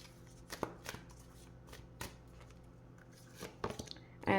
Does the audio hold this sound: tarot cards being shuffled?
yes